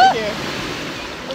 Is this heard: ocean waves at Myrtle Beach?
yes